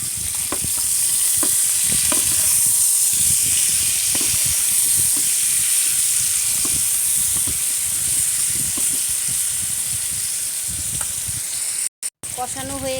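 Pointed gourd frying in oil with ginger-garlic and mustard paste, a loud continuous hissing sizzle with intermittent stirring knocks, nearby and without voices, briefly cutting out near the end.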